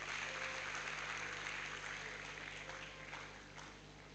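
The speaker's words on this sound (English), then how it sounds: "Give them a round of applause." An audience applauds at a university matriculation ceremony in Benin, a faint, steady wash of clapping from a hall crowd that fades slightly toward the end.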